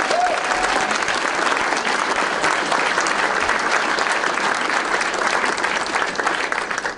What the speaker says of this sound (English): Let's hear an applause for that